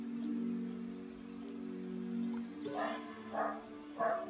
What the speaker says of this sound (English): the dogs are deciding that they want to bark at nothing